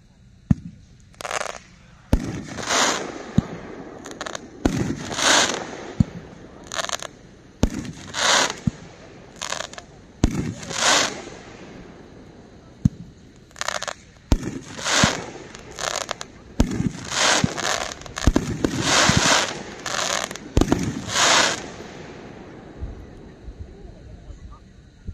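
A Cutting Edge 12-shot Special Forces firework cake fires a rapid series of sharp bangs and crackling bursts. The booms echo outdoors at a moderate distance and come in uneven clusters across the whole stretch.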